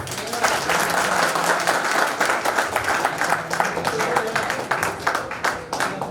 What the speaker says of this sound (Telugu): ఒకసారి అందరూ బిగ్ క్లాప్స్.